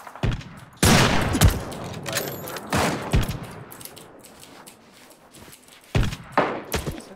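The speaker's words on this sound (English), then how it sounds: "Taking fire from the other guy." Gunfire in a video game: a few separate loud volleys crack out, each followed by decaying echo, with quieter gaps in between.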